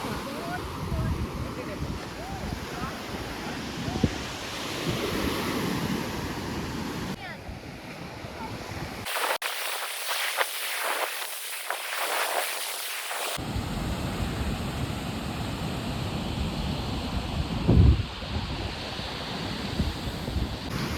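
Cool wind blowing at a seaside spot in Yermal, a rough steady rumble of gusts on the microphone mixed with distant surf, dropping briefly to a thinner hiss midway before the full buffeting returns.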